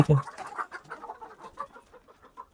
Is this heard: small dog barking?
no